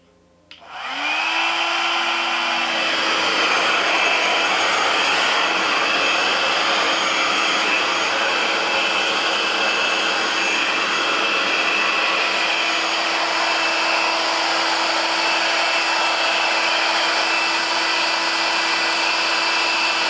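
A RevAir hair dryer switches on with a click and settles into a loud, steady whoosh of blowing air with a constant high whine. It runs close and unbroken for about twenty seconds.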